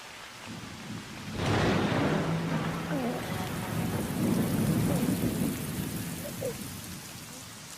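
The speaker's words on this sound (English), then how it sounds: "the rain is a blessing brought by your birth" Steady rain pours down with a low thunder rumble in a storm, broadband and close, swelling after the first second and holding on with a few distant voices beneath.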